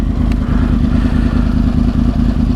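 A 2010 Yamaha R1 sportbike runs steadily while being ridden, its engine a loud, close, continuous drone with a dense low rumble and no voices.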